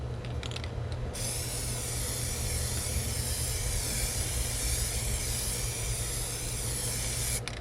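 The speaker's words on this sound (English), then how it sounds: "now we're back for our third and final coat of the Plasti Dip glossifier" An aerosol can of Plasti Dip glossifier sprays a coat onto a tumbler: a loud, continuous close hiss that holds steady for about six seconds over a low background hum.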